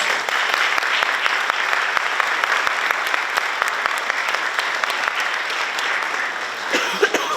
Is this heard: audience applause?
yes